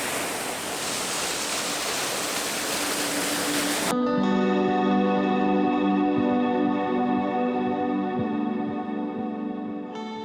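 A waterfall in the hills around Bangdwara village roars as a broad, steady rush of water, loud and continuous, with a tonal musical layer coming in partway through.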